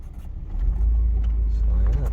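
Low, steady engine drone of a Chevy Astro AWD van converted to 4x4, rolling in four-wheel drive, with a voice talking briefly over it.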